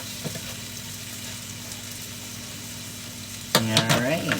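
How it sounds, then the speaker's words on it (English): Frozen diced onions and minced garlic sauté in a pan with a steady, moderate sizzle and faint stirring. Near the end a voice comes in over the cooking. "let those saute"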